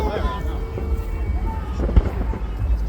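Fireworks and firecrackers pop and crackle on bonfire night, scattered thumps and bangs over a rumbling background with people talking nearby.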